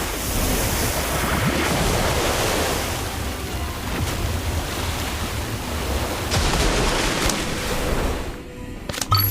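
A water orb spell effect in the Harry Potter Magic Awakened game swells as a broad, steady rushing wash like surf, fairly loud and sustained, with no talk over it.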